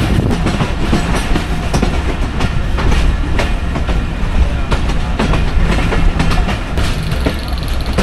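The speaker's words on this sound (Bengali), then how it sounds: "কাঞ্চন এক্সপ্রেসে করে আমরা যাচ্ছি, অর্থাৎ কাঞ্চন কমিউটার" A Kanchan Commuter train runs on its rails with a continuous loud rumble and rhythmic clickety-clack of wheels over track joints, heard from close by with no talk.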